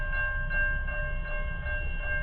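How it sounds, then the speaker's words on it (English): A train passes a rail crossing at night on the South Coast Rail line in Berkley, a loud, steady rumble of wheels under a sustained, multi-tone horn blast close by. "here comes the train"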